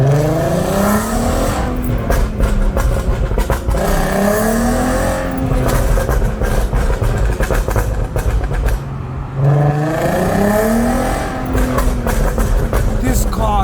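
A Volkswagen Golf R32 MK5 engine revs hard and close, rising repeatedly in long sweeping climbs with brief drops between, loud throughout with no talk over it.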